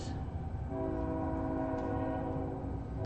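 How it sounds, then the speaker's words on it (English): A passing train sounds its horn in a sustained, steady blast over a low rumble of rolling wagons, fairly distant and continuous throughout. "There goes the train."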